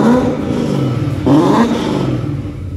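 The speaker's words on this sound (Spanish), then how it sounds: "Estos motores de Mustang son muy bonitos." A Ford Mustang engine revs up loudly nearby in a garage, a strong rising roar that dips, then climbs again in a second sharp rev before easing off.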